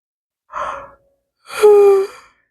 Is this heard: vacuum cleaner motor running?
no